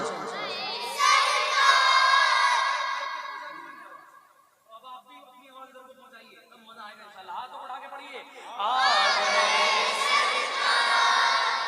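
A large crowd at a Rabi ul Awwal naat gathering loudly chants "aa gaye sarkar" in unison, swelling at the start and again at the end, with a quieter stretch of scattered voices in between.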